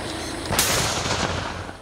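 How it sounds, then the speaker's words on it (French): A police bomb disposal team sets off a controlled explosion of a rocket projectile: a sudden sharp blast followed by a rumbling, decaying roar, heard alone at moderate distance. "déclencher une explosion contrôlée du projectile"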